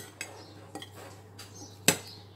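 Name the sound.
mixing a salad in a bowl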